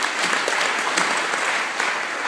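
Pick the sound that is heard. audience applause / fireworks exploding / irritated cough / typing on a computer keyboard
audience applause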